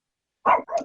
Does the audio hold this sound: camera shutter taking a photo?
no